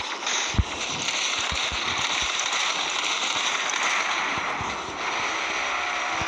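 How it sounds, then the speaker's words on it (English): Grenade launcher fire in the Mech Arena mech combat game, a few sharp low thumps early on over a steady dense wash of game noise, with scattered crackling impacts. "I still got to pull out my grenade launcher."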